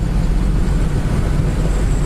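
Steady low engine roar from a 1966 Ford Mustang as the automatic transmission kicks down to pass, a broad droning rumble heard from inside the car with no talking.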